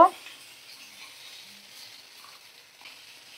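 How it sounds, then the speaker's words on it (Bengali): Eggplant and vetki fish cooking in a pan over a medium flame, a soft steady sizzle running throughout, quiet and even, with a brief clatter at the very start. "দেখো মিডিয়াম ফ্লেমে রেখে আমি রান্নাটা করছি"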